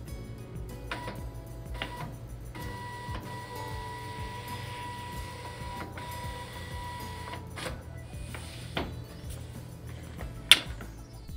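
Zebra ZT411/ZT421 industrial label printer running its auto calibration, a steady low motor hum with faint mechanical ticks and whirs, a few soft clicks and one sharp click near the end, no talking.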